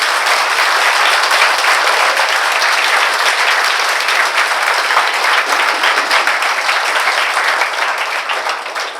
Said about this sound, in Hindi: इनका आप दोनों हाथ ऊपर करके जोरदार तालियों से स्वागत करेंगे।